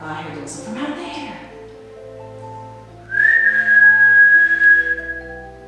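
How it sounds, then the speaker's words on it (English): A long, steady high-pitched whistle rings out clearly after some muffled voices, held for a couple of seconds. "I heard the whistle from out there."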